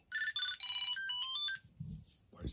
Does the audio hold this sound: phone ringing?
yes